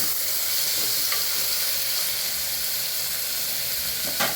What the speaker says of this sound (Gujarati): અહીં આપણે ટમેટું પણ ઉમેરી દઈશું. એને પહેલા સાતળી લેશું આપણે.